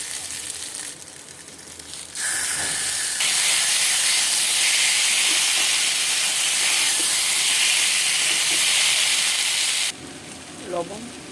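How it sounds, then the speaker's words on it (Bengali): Ginger-cumin paste and boiled tomato paste go into hot oil over fried potatoes, setting off a loud, sudden sizzle that hisses steadily for several seconds and then drops away abruptly near the end. "এবার আদা জিরে বাটা আর সেদ্ধ টমেটো বাটাটা দেবো।"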